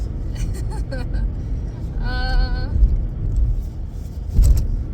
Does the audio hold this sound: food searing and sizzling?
no